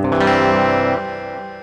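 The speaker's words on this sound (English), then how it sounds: "let's check out the reverse reverb mode" Endorphin.es Ghost guitar pedal in reverse reverb mode, a dense sustained wash of chords swelling in and holding loud before dropping to a softer, fading tail.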